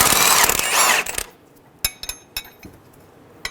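A nut comes off a bolt with a 22mm socket and a 24mm wrench during a 2003-2008 Honda Pilot CV axle replacement. A loud ratcheting whir runs for about a second, then scattered sharp metallic clicks and clanks follow.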